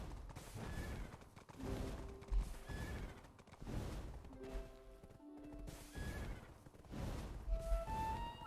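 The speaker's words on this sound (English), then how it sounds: "Like the horse neighing constantly" A horse in Black Desert neighs and whinnies repeatedly over clopping hooves and clattering game sounds, several calls rising and falling across a steady, fairly busy background.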